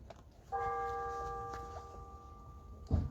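Distant church bells ring with a sustained, humming tone over a quiet background, followed by a soft thump near the end.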